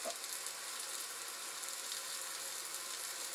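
Sausages frying in a pan on a small homemade tabletop waste-oil stove built from a paint can, heard as a continuous, even sizzle at moderate level, close by and with no speech.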